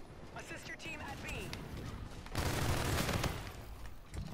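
Call of Duty Infinite Warfare multiplayer gunfire in the Moshpit mode, a dense burst of rapid shots and explosions swelling loudly midway over continuous game noise, with a voice talking over the action.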